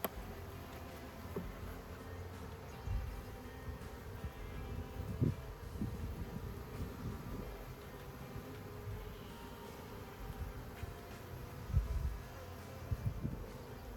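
A steady, low drone of many honey bees buzzing together at a hive, continuous and close, with occasional louder passes of individual insects and no voices.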